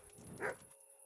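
A dog whimpers in Kingdom Come: Deliverance, a single brief high whine rising out of soft background game ambience, then quiet.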